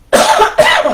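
Two loud, close coughs follow one another in quick succession from a person in a kitchen during a faux pecan pie demonstration.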